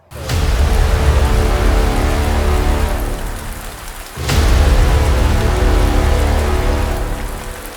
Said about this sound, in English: we will pick this back up when it's not raining